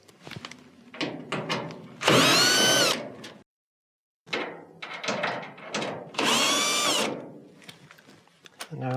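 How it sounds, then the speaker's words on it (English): Power driver with a T20 Torx bit backs two screws out of the top of a Whirlpool dryer, giving two loud whirring bursts of a couple of seconds each, with someone talking before and between them. "you're going to need a T20 Torx bit to remove the 2 screws at the top"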